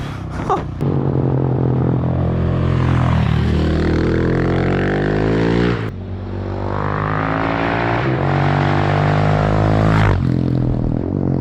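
A Husqvarna 701 Supermoto motorcycle engine revs hard and climbs through gears, dropping briefly between shifts, loud and close throughout with no voices.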